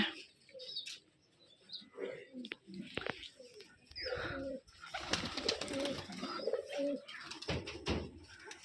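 Flying pigeons in a loft in Rajshahi coo repeatedly at close range, soft throaty calls overlapping with faint bird chirps, with low murmured voices in the background.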